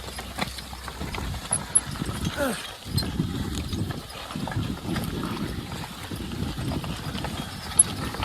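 Horse hooves clopping steadily on the ground while pulling a plow, with a creaking, rattling rumble of equipment underneath, outdoors on a farm and moderately close.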